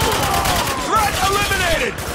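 Rapid gunfire from soldiers in the combat game Spec Ops: The Line, a dense steady barrage of shots under shouted voice commands and game sounds, loud and continuous throughout.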